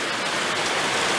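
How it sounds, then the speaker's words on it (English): Heavy rain pouring down in a daily tropical downpour, a dense, loud, continuous hiss of drops with no pauses and no voices. "Every day it rains like this, at least 3 times a day."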